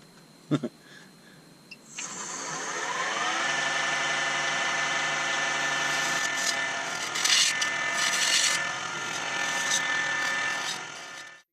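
Wood is turned into a pear shape on a lathe. After a few knocks, a steady motor hum rises with a scraping cut across the spinning workpiece, close and continuous, then cuts off at the end.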